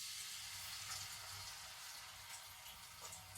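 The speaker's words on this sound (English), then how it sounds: "I'm just going to take a couple of these pieces of tofu and start to fry them." Tofu pieces frying in hot oil for Japanese inari sushi, giving a steady, close broadband sizzle with soft crackling pops throughout and no talking.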